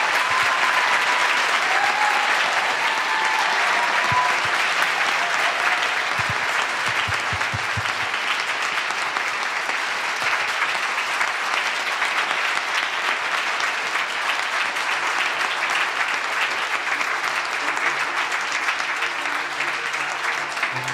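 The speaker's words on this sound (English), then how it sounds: "Now you can go ahead and give them a round of applause" An audience at a congressional candidate forum claps for the candidates, a continuous, full round of applause from a roomful of people that stays loud and even for the whole stretch.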